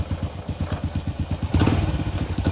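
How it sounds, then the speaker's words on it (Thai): A motorcycle engine putters in fast rhythmic pulses, then revs up louder and rougher partway through, close to the listener, during repair of a faulty turn-signal switch. "ต้องเร่งเครื่องนะครับ"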